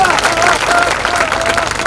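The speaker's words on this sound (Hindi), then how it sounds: "नौजवानों के नाम पे जोरदार ताली बजा करके स्वागत करिए।" A crowd at a public political rally in Sasaram, Bihar claps loudly and continuously for a short stretch, a dense wash of hand claps mixed with faint murmuring voices.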